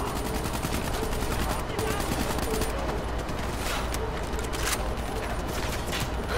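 Dense, continuous gunfire rattles across a video game battleground, with machine-gun bursts and overlapping shots filling the whole stretch at steady loudness.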